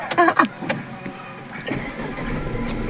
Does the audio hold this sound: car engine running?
yes